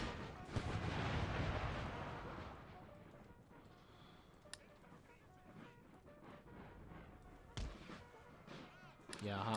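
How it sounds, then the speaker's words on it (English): Cannon and howitzer fire in the Empire Total War video game, a heavy boom at the start that fades into rumble, then a few scattered sharp reports and thuds at moderate distance, with talk in the background. "Yeah, howitzers."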